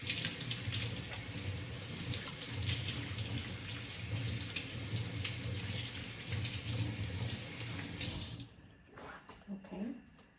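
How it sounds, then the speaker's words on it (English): Hands washed under a running kitchen tap while cooking chow mein: a steady, close stream of water splashing into the sink for about eight seconds, then the tap shuts off, leaving a few faint handling sounds. "I'm gonna wash my hands quickly"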